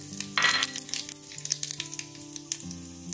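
Cumin seeds and broken dried red chillies crackle and sizzle in hot oil for a tempering, with a burst of spitting at first settling into steady popping and occasional stirring.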